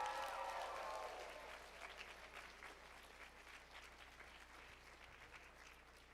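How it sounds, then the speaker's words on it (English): Applause from a gathered crowd at a school sports signing day ceremony, strongest at the start and then settling to a softer, steady clapping that continues to the end. "let's give them a great big applause"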